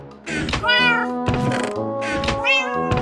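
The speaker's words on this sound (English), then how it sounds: "Not now, Mr. Kitty" A cat meows several times in quick succession, close and loud, each call a drawn-out whining tone separated by short pauses.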